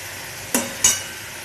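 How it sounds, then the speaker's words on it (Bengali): Spice masala frying and being stirred in a pan for a banana-flower dish, a steady faint sizzle broken by two quick scraping stirs close by. "সুন্দর করে কষবে, তারপরে আমি মোচাটা দিয়ে দেবো। মশলাটা ভালো করে কষা হোক।"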